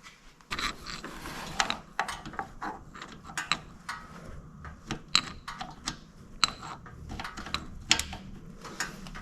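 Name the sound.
loosening motorcycle oil drain bolt with ratchet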